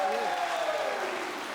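Guests at a classmates' reunion evening, held 42 years after school, applaud from their seats in a steady wash of clapping, with a voice or tone carrying over it at the start.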